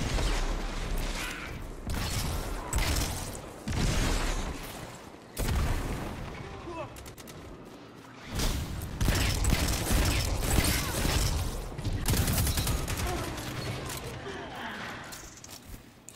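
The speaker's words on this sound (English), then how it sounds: "Oh, nice shots." Gunfire in Destiny 2 on Xbox One erupts in loud bursts of shots and booms with mechanical clanks, separated by short lulls, while a player talks throughout.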